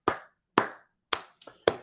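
Five short, sharp claps spaced about half a second apart, loud and close with no talk over them, marking a round of applause for 49ers fans at Levi's Stadium on schedule release day.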